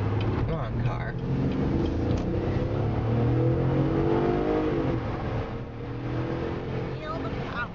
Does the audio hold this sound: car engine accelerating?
yes